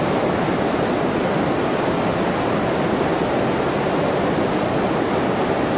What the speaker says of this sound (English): It's a beautiful river. This is the Peshtigo River.